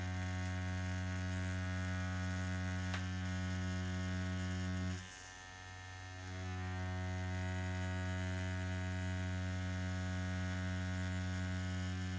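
A Dragonhawk Fold Pro rotary tattoo machine fitted with a 9-round liner needle runs as a steady close electric buzz, briefly dipping as the needle works into the skin, then resuming, with no talk.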